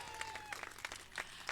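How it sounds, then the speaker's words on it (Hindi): Applause at a Hindi poetry recitation in honour of fathers, scattered claps rising from a faint background hum with a sustained tone early on, fairly quiet and sparse. "एक बार पिता के सम्मान में तालियां बजाएं"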